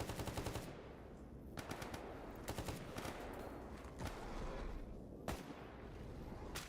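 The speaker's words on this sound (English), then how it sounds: "Where are they shooting at?" Gunfire crackles in the shooter game RE:DONE GAMMA as several sharp automatic bursts and single shots, fairly faint and spaced out over a quiet background.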